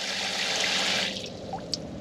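Powerful water spray from a camper van shower hitting the inside of a bucket, a loud, continuous hiss and splash that eases slightly near the end, with a single drip at the close.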